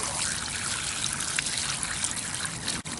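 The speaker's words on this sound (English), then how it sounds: "now we've got the water running with the hose" A continuous broadband splash of water from a hose, loud and close, pouring steadily with no pauses and no voices, rinsing a Chinook salmon.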